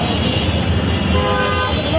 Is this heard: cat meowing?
no